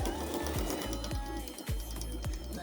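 Sewing machine stitching a pocket onto the front panel of a kaftan bubu dress: a steady rhythmic mechanical thumping with regular needle strokes, close and continuous.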